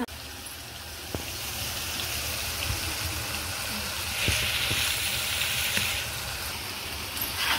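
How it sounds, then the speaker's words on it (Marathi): Chicken liver fries in oil on a tawa with a steady, close sizzle and crackle, plus a few soft clicks scattered through. "आता आपली कलेजी मस्त फ्राय झालेली आहे"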